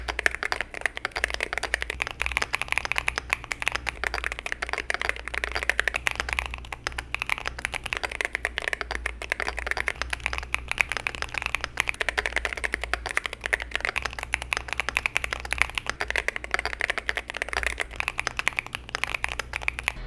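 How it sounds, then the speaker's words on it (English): Continuous rapid typing on CIDOO C75 Hall effect magnetic and Monsgeek M1V3 mechanical keyboards, a steady close stream of clacky keystrokes with some chattering, running alone for the full length. "Let's end this sound section with a comparison to a cleaner sounding keyboard, the Monsgeek M1V3."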